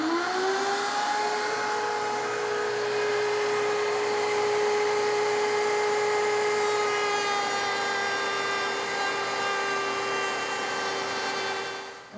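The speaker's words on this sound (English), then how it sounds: "Now the cutter is a half-inch cove bit, and I've raised it so that it's just slightly above the table to remove the material that I want." A router table spinning a half-inch cove bit set just above the table cuts wood in one loud, steady whine with a rising start-up, running continuously for about twelve seconds before trailing off.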